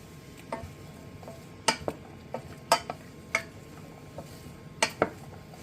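Onions and celery sauté in a pan for sprout soup: faint sizzling sits under scattered clinks and taps of a utensil stirring against the pan.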